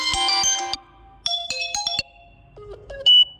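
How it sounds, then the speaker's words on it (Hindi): Ringtone previews play on a Vivo Y22 phone: several short melodic electronic tone sequences, clear and close, separated by brief gaps with no talking. "यहाँ से आपको जो भी रिंगटोन सेट करनी है अपने फ़ोन में इस तरह से सेट कर लेंगे।"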